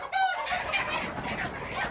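Egyptian Fayoumi laying hens around four months old cluck on a farm, one short call near the start followed by softer, scattered clucking from the flock.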